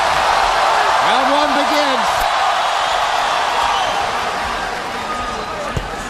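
Sellout arena crowd of about 13,000 roaring steadily as a boxing round begins, a dense, loud, continuous wash of cheering, with a commentator talking over it.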